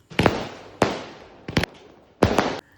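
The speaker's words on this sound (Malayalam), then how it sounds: "1 മണിക്ക് ഞങ്ങൾ അമിട്ട് പൊട്ടിച്ച് വേറൊരു പാർട്ടിയും കൂടി നടത്തി അവിടെ" Aerial firework shells burst at a late-night party during a trip to Alappuzha, giving four sharp, loud booms at uneven intervals, each trailing off in a short crackling decay, with no voices.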